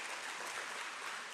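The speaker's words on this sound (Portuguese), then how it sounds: "Aplauda mais uma vez esse nome poderoso." Steady, fairly quiet applause from a church congregation during a worship service, a continuous even wash of clapping with no voices standing out.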